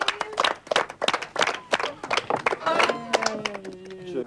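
A small group claps briskly to welcome new female participants on a reality show, sharp individual claps in an uneven rhythm, close by, with voices and a few calls mixed in.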